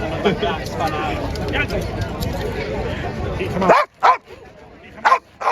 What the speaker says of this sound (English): Basically, the dog is barking against